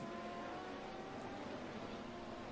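An Audi R8 GT3 race car at a Dubai four-hour race gives a faint, steady engine drone from a distance, with no talking.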